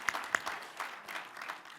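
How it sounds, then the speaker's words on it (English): A few sharp, spaced hand claps from one or a few people at an online institute session, faint and brief, with a couple of louder claps near the start. "I'm gonna clap for that."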